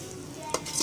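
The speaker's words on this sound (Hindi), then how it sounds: "हम कलेजी को भून रहे हैं" Goat liver frying in a pan gives a brief burst of sizzling as a utensil scrapes and stirs it close up.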